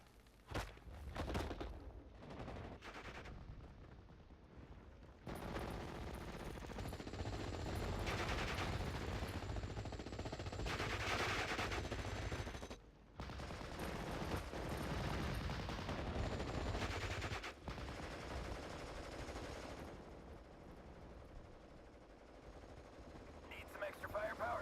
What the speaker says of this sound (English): So we're going to start firing some actual shells at the machine gun up there.